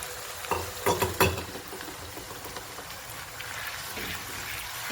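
Two medium onions for fresh turmeric curry hit a pan, with a few clattering stirs at first, then a soft, continuous frying sizzle at close range.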